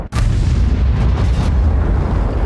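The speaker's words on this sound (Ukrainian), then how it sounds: "О, постріл, так." A T92 HMC artillery gun in a World of Tanks-style game fires a single loud boom that hits at once and then rolls into a long rumbling decay.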